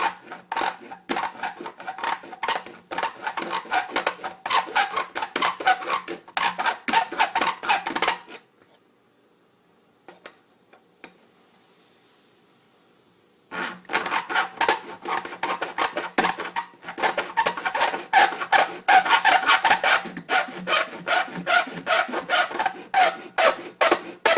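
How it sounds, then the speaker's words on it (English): A metal file rasps back and forth across the top of an aluminum bottle, cutting notches in rapid scraping strokes; a quiet pause in the middle separates two long bursts of close, gritty filing. "I'm going to take this and my file. I'm just going to go right across the top, crisscross it."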